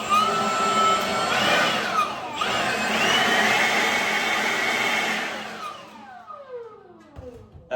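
Air is blown through a clothes dryer vent to push lint outside, producing a loud continuous rushing roar that falls in pitch and fades away as the blower winds down.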